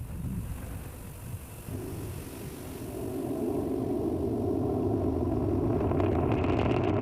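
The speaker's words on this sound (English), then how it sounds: "We can hear the characteristic rumble as the first stage heads into space" A SpaceX Falcon 9 first stage climbing after liftoff from Complex 39A at Kennedy Space Center, a broad, continuous low rumble that swells and thickens over several seconds, with faint crackling on top toward the end.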